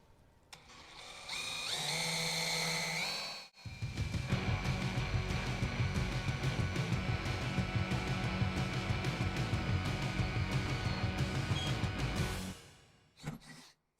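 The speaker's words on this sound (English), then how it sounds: "There we go. I got my hole drilled." A power drill with a steel bit bores into steel, whining steadily for around nine seconds at medium speed after a brief spin-up, then stopping, with no talk.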